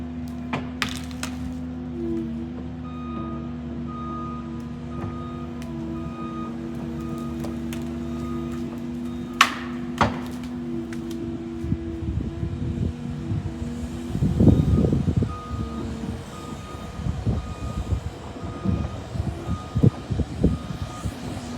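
Dump truck backing up with an engine drone and a steady run of reversing beeps, joined by clunks and rattles partway through as clay is dumped.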